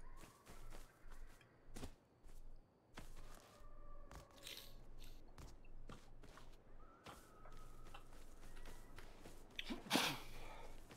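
A single sharp sneeze bursts out near the end, amid soft clicks and quiet background noise during a Rust game livestream.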